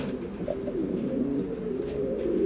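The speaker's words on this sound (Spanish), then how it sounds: "Buena pareja de paloma." A pair of pigeons cooing in a steady, low murmuring run of coos, close by and continuous with no talk over it.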